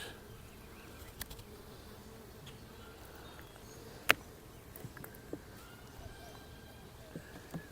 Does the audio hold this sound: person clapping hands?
no